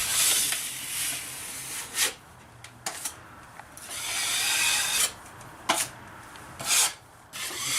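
Drywall knife scraping excess joint compound off taped seams while patching sheetrock over a closed-up window opening, with repeated rasping strokes that swell and fade and a few sharper scrapes and taps between them, close and moderately loud.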